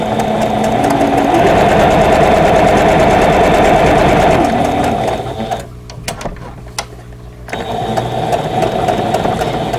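A sewing machine stitches a vintage Baby Bunting quilt block, its motor running in a steady close whir that stops briefly partway through and then starts up again.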